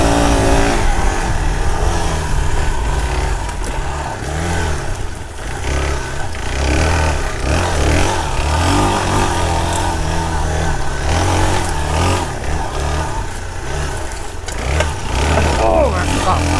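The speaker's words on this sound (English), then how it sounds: "I will lug a bike out of a turn instead of ripping on the clutch and using the clutch." A dirt bike engine lugs at low revs out of turns on a wooded trail. The steady, loud rumble rises and falls in pitch as the throttle rolls on without slipping the clutch, with constant wind and road noise throughout.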